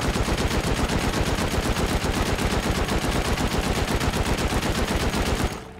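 Sustained automatic LMG fire in the survival game Rust, a loud, dense, continuous rattle of rapid shots lasting nearly six seconds before cutting off abruptly.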